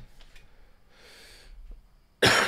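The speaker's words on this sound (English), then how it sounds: "I also have a cough that's been absolutely murdering me." A quiet breathy pause, then a single sudden loud cough close to the microphone at the end.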